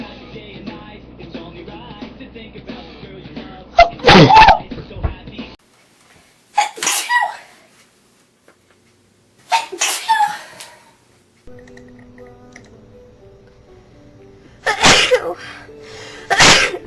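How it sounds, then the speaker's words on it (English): Several sharp, loud sneezes from a young woman burst out one after another, separated by quiet pauses and some low background sound. "Oh, my sneeze is weird."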